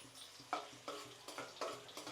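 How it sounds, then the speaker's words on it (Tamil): Soft sizzling of onion and fenugreek seeds frying in a pan to temper a Tamil kuzhambu, with periodic stirring scrapes and bursts of crackle every half second or so, fairly quiet and close. "குழம்பு தாளிக்க ஆரம்பிச்சிட்டேங்க. வெங்காயம் போட்டுட்டேன் ஃபஸ்ட்டு, அப்புறம் வெந்தயம் போட்டிருக்கேன்."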